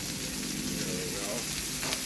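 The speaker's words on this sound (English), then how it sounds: "listen to that sizzling pop." Pork tenderloin sizzling in oil on a very hot Blackstone griddle, a soft steady crackle and hiss with scattered pops near the end, fairly faint and heard close.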